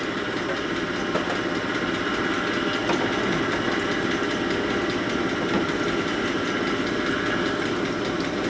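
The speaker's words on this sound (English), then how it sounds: "we're going to do a little bit more honing" An oiled hone works inside an engine part from a 1961 Harley-Davidson Sportster XLCH, giving a steady, continuous motorized whirring with a gritty scraping texture and no talking.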